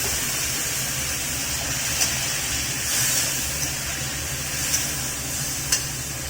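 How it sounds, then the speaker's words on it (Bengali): Ground spices frying in a pan with a splash of water added, a steady hiss and sizzle with occasional stirring clicks, close and continuous. "গুঁড়ো মশলা যাতে পুড়ে না যায় তার জন্য আমি একটু জল দিই।"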